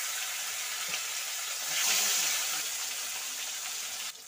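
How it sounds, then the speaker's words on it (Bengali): Fish coated in salt and turmeric frying in hot oil, giving a soft, continuous sizzle that swells briefly midway before settling back to a steady crackle. "গরম হয়ে গেলে মাছগুলো ভেজে নেব"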